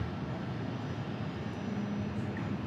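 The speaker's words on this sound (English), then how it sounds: "Piaggio, nothing like a rear-mounted engine." A Piaggio plane with rear-mounted engines passes at an airport, giving a steady, broad engine roar with a faint hum, heard alone without talk.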